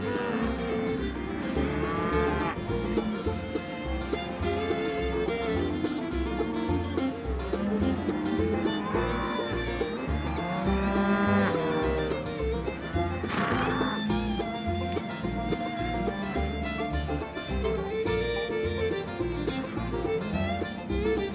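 Cattle on a ranch moo repeatedly and loudly, several animals calling in overlapping, drawn-out lows over a steady outdoor background, with no talking.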